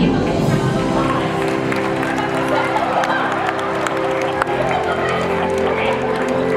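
Crowd applause and cheering from a theme park audience at a special effects stage show, a steady dense wash of clapping with a few sharp claps standing out.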